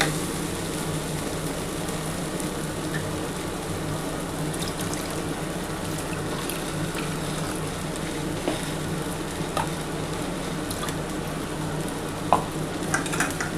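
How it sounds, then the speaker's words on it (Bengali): A bowl of water poured into a pot of fried rice and lentils for khichuri, with soybeans: steady loud sizzling and bubbling with a splashing, stirring wash throughout and a faint clink of utensils near the end, no talking. "এই যে আমার বড় বাটির এক বাটি জল দিয়ে দিচ্ছি।"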